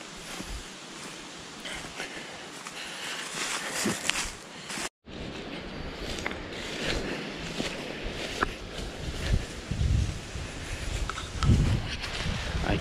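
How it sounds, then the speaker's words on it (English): Gusty wind moves through woods while someone walks, leaves rustling and footsteps crunching at close range, with a brief dropout in the middle and stronger low rumbling gusts toward the end. "hate walking in the woods when it's windy."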